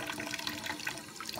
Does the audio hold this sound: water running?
yes